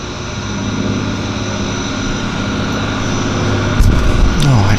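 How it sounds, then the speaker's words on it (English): A floatplane approaches the downtown Vancouver Harbour on a hot, humid summer day, its propeller engine droning steadily and growing louder, with a sudden thump near the end as the camera tripod gets bumped. "Got another airplane on approach."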